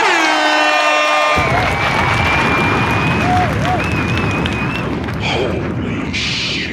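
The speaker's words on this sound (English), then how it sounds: "So, I'll give her a round of applause." Applause and cheering from a live stream audience swell in abruptly after a steady tone and carry on as a loud, dense, continuous crowd roar to the end.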